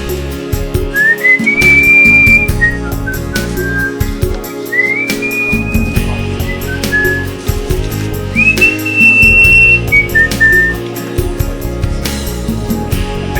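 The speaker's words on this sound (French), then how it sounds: "Quand je siffle, c'est que je suis de bonne humeur, moi." A person whistles a cheerful tune in several rising and falling phrases, loud and close, with outdoor rustling and handling noise underneath.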